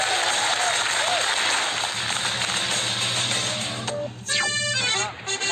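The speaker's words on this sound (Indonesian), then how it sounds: "Beri tepuk tangan buat skill pesepeda yang super kece ini" Audience applause for a cyclist crossing a precarious bridge, dense and loud at first, then thinning into a few separate sharp claps toward the end, with some background noise mixed in.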